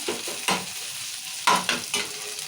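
Chopped tomatoes and onions sizzle in hot oil in a tempering for spinach dal, with a steady frying crackle broken by several sharp spoon-stirring scrapes close by.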